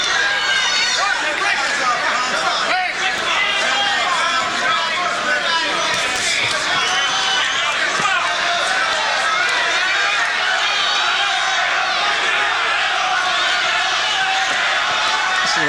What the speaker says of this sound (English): The crowd taking up the chant.